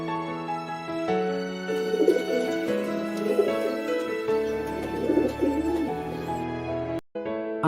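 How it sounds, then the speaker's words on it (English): A pigeon coos in low, soft, rolling bursts that repeat a few times, set against a continuous steady tonal background. "Pigeon, pigeon."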